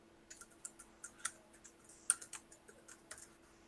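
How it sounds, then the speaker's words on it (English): Fingers tap on a computer keyboard in a quiet room, a quick, uneven run of soft clicks with a few sharper keystrokes, under a faint steady hum. "I can continue typing."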